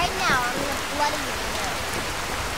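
Rain in Skyrim VR, falling on the bridge at Riverwood, makes a constant close hiss, with a voice briefly heard over it.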